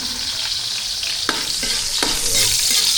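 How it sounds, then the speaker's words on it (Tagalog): Garlic added to a hot pan with ginger for a Filipino mussel dish, a loud continuous sizzle with a few sharp scrapes and clacks of stirring, up close. "Lagyan natin yung bawang"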